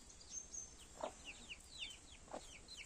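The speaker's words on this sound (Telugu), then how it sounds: "ఇంకా మా కోళ్ళు" Backyard chickens cluck in soft, scattered bursts with a few fuller calls, heard faintly at a distance among birdsong chirps over quiet outdoor background.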